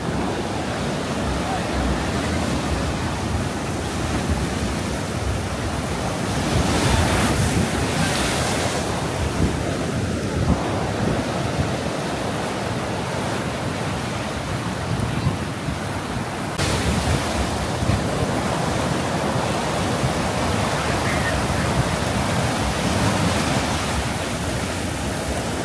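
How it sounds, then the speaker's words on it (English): Storm water pouring off Blackpool promenade and waves surging back into the sea during Storm Ashley, a steady loud roar of surf and rushing water with gusting wind buffeting the microphone throughout. "You see the amount of water that's pouring down from the promenade, what's gone over."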